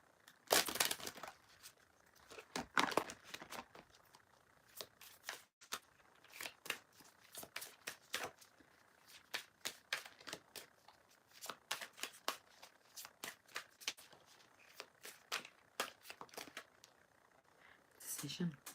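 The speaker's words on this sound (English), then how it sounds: "So we'll put the cards away now." Tarot cards from the Tarot of Sexual Magic deck are shuffled, riffled and gathered up, a steady series of close, crisp slaps and papery rustles running throughout with quiet gaps in between.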